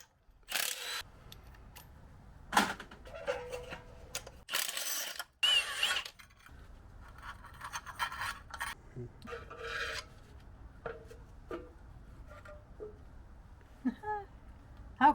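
A Milwaukee power tool works the flywheel bolts loose on a 1968 Ford Mustang engine, giving short bursts of mechanical whirring and ratcheting with rattling metal handling in between.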